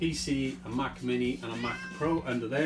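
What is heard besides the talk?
cat meowing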